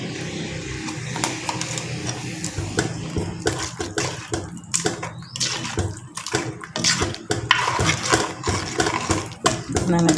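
Water is poured into a pot of white radish dhal (mullangi sambar) while cooking, a continuous splashing gush with clinks and rattles, and a person talks over it.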